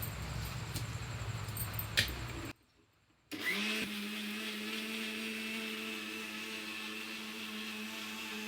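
Mixer grinder whirs steadily as it grinds roasted sathupindi flour, a loud sustained motor hum with a tonal drone after a short pause and a burst of clatter at the start; no voices.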